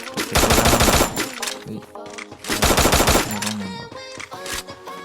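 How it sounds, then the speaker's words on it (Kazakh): Bursts of rapid automatic gunfire from a battle royale video game, loud and close, in two long sustained volleys with shorter shots between and faint game sounds. "Мықты біреу атып жатыр."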